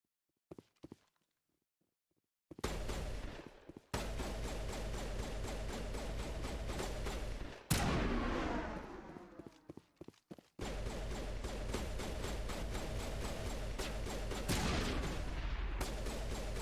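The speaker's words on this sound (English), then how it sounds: "We'll shoot the fusion container." Gunfire in Mass Effect aimed at a fusion container, with long stretches of rapid, loud repeated shots broken by short pauses and a sharp blast near the middle.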